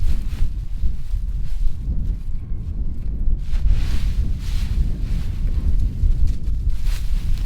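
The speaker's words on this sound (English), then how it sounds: "It's a little windy out here" Wind gusts roar steadily across an outdoor farmyard on a maple-tapping day, a low rumbling buffet on the microphone that swells and eases for the whole stretch without any talking.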